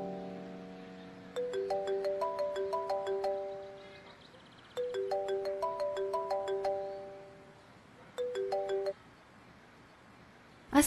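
A phone ringtone plays a bright, stepped melody in three bursts, two long phrases and a shorter one, with pauses between them; no one speaks.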